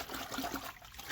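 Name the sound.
dirty water running through a Graco paint sprayer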